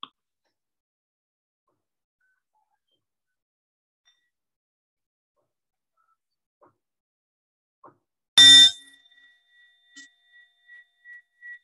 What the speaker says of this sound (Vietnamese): lắng nghe một cái tiếng chuông